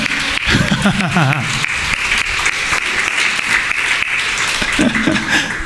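Congregation in a church service applauding for a son's love for his mother, steady dense clapping filling the room throughout, with a few voices and murmurs underneath.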